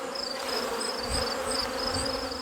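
Dense, steady buzzing of many honeybees close by during honey extraction from a hive, a continuous droning hum with no talking.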